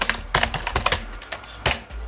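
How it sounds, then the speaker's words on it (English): Fingers type on a computer keyboard while entering data into a spreadsheet, giving a close, irregular run of sharp key clicks with a few heavier strokes and short pauses between bursts. "I have clicked once and I am typing owner last name"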